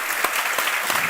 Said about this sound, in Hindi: अरे एक बार उठ के ताली बजाओ लोग।